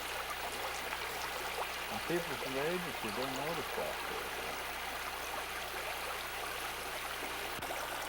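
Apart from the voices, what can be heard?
creek water flowing, North Fork Creek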